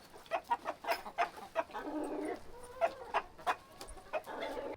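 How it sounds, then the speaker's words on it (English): Light Sussex chickens, a rooster and four hens, cluck and murmur in a steady rhythmic series of short calls nearby, with no talk. "MJ and his girls are light Sussex chickens"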